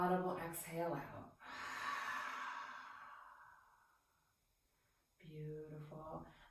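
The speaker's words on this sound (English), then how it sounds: "Deep breath in. Audible exhale out." Guided breathing exercise: a long, audible exhale follows a deep breath in, with a soft voice instructing before and after, close and clear.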